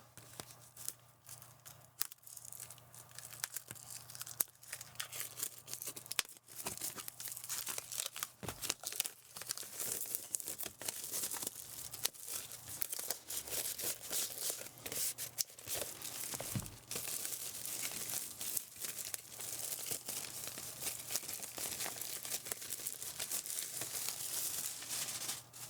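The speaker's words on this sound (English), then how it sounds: "Let's get it unwrapped." Plastic shrink wrap is peeled and torn off a vinyl soundtrack record for the Predator prequel Prey, producing nearly half a minute of close, busy crinkling and tearing in irregular bursts with no talking.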